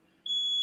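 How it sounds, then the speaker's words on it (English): Household smoke alarm set off by cooking, a single sustained high-pitched electronic beep that starts abruptly and holds steady, fairly loud indoors with no talk over it. "that's my fire alarm going off because they're cooking"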